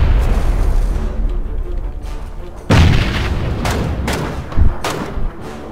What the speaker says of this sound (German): Schmeiß mal die Granate vor